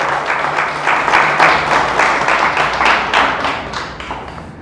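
Loud, dense clapping from a church congregation, swelling in rhythmic bursts and tapering off slightly toward the end.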